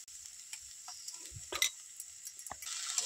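A spoon scrapes and taps quietly around a pan of spices, cumin, chili and turmeric powder, frying in oil for a vegetarian cabbage dish, over a soft steady sizzle.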